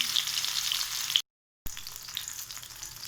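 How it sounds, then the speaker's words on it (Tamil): Kerala kilimeen fish fries in hot oil, a dense, steady sizzle heard up close, broken by a brief moment of total silence before the crackling resumes. "ஃபிஷ் ஆட் பண்ணி கொடுக்க போகிறேன். இது ஒன் சைடு நல்லா குக் ஆகட்டும்"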